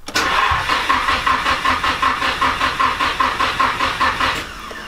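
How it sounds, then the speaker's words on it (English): An SR240 car's engine cranks over and over in a fast, even rhythm, loud and close, failing to start. "I'm gonna go ahead and start the car right now"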